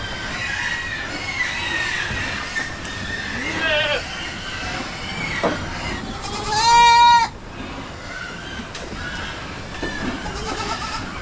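Goats on a farm give a few scattered bleats, the clearest one rising and wavering in the middle, over a steady outdoor background. Faint voices are also present.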